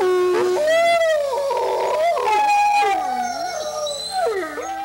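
A wolf howls in long, rising and falling tones in Yellowstone National Park, joined by other overlapping howls and yips; clear and fairly close, no talking.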